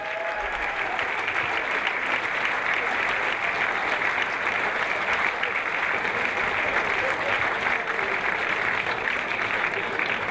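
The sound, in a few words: audience applause at a reunion event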